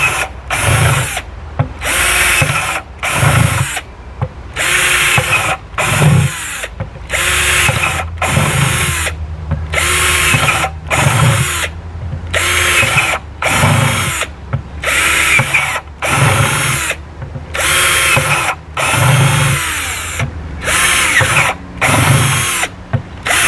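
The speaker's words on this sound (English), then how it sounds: "But you take your drill, and I just drill as many holes as I can." A power drill boring holes through a plastic bucket for a container garden, loud repeated bursts of whining motor a second or two long, separated by short pauses, over and over with no talking.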